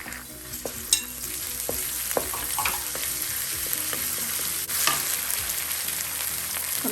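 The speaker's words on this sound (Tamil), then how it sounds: "வெங்காயம் இந்த அளவுக்கு வதங்கின போது நம்ம இஞ்சி பூண்டு பேஸ்ட் ஆட் பண்ணோங்க." Onions frying with ginger garlic paste for a roadside-style mushroom curry, a continuous close sizzle with scraping stirring strokes and scattered clinks of a spoon against the pan, no talking.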